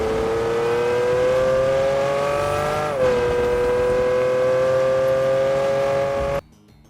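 A sports car engine in Fortnite holds a steady, loud, high-pitched revving drone with a brief pitch dip midway, then cuts off abruptly near the end.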